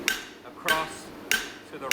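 Three sharp hammer blows ring out on hot metal at a blacksmith's forge while a bar tip is spread, evenly spaced about two-thirds of a second apart, close and bright, with a few quiet spoken words between strikes.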